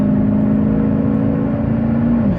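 A Nissan or Infiniti car accelerates back up toward high speed, a steady close engine drone with a rising whir throughout, easing slightly near the end.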